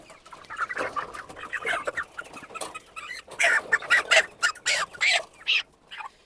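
A Master Grey rooster clucks and squawks close by in a series of short, agitated bursts that grow louder and more frequent toward the end.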